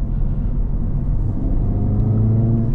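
Engine of a 2024 Acura Integra Type S under acceleration, a steady low rumble with a gradually climbing tone, heard from inside the cabin without talk.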